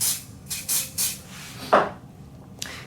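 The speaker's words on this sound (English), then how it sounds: "I spray the top of it" Several short hissing bursts of spray glue from an aerosol can, four quick sprays then a pause and another brief one, close and fairly soft, with a light knock of handling in between.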